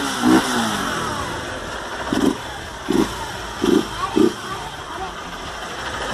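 A Honda Fan 150cc motorcycle with its air filter mouth removed idles, then gives several short, sharp revs in a loose rhythm, close and loud, with voices talking over the engine.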